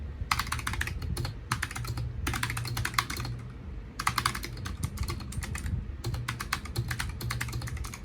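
Computer keyboard typing in bursts of rapid keystrokes separated by short pauses, close and fairly clear over a steady low hum, with no talking.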